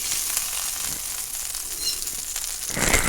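Butter sizzling in a hot pan on medium-low heat while pancakes are made, a steady crackling hiss with small pops, swelling louder near the end.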